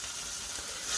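Chorizo sizzles in a pan over medium heat, a steady bright crackle and hiss holding evenly throughout, close and alone.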